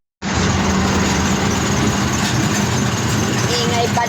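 A noisy jeepney engine runs loud and close, a steady rough rumbling drone that starts abruptly and holds without pause.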